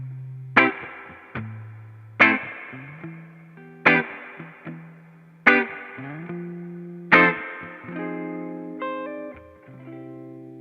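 A clean bass line plays through a Dr. Z spring reverb tank, heard as five plucked notes, each struck firmly and followed by a splashy, springy reverb tail, with a few quicker notes toward the end.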